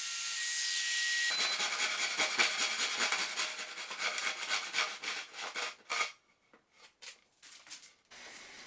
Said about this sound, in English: and I'll finish that off with a handsaw